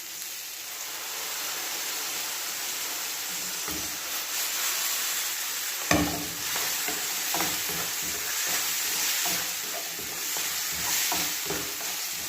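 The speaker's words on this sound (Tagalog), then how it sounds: "kapag gisang-gisa ng ating kamatis, palasahan natin ang patis" Tomatoes sizzle steadily in a hot pan while being sautéed for ginisang pechay, a constant hiss under intermittent scraping and stirring strokes.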